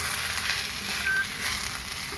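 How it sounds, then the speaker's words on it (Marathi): Chopped eggplant sautés in a hot pan with a steady, close sizzling hiss that holds evenly throughout. "आता यामध्ये मी असे चिरलेली वांगे घालून घेते"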